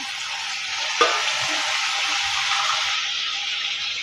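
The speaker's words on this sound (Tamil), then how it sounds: "ரெண்டு மிளகாய் கொஞ்சம் கருவேப்பிலை சரி சேர்த்து நம்ம வதக்கி எடுத்துக்கலாம்" Green chillies and curry leaves sauté in a pan for a mushroom kurma, giving a steady close sizzle with a brief sharp crackle as they hit the oil, with no talking.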